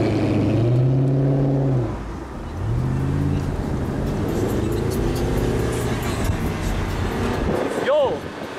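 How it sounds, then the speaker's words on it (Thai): An Audi R8 convertible supercar engine revs loudly nearby with rising and falling pitch sweeps and a brief dip in between, while people talk over the engine noise. "รถมันดังกว่า"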